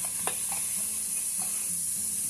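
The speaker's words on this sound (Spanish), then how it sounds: "vamos a poner un poquito de aceite o aceite de oliva a calentar y vamos a empezar a saltear cebolla picada, morrón picado y ajo picado" Chopped onion, bell pepper and garlic sautéing in hot olive oil, with a steady close sizzle and a few soft stirring scrapes, no voices.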